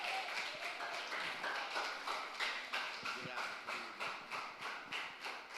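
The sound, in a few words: church congregation applauding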